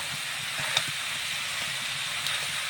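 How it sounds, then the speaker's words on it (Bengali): Onions and chopped chilli frying in a generous amount of oil give off a steady, close sizzling hiss that holds evenly throughout, with one brief crackle partway in. "ভাজা করে নেব। সুন্দরভাবে তেল দিয়েছি, অনেকগুলা পেঁয়াজ কেটে দিয়েছি, ঝাল কেটে দিয়েছি।"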